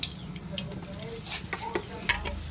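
Red chillies and tempering seeds fry in a little oil in a pan, a soft crackling sizzle running throughout, with a spoon scraping and stirring and clinking against the metal.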